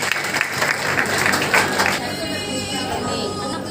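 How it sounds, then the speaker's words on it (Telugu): A burst of hand clapping from a small group at a Christmas Eve church service rings out for about two seconds, then fades into a steady background hum. "నిజంగా చప్పట్లు కొట్టాలి."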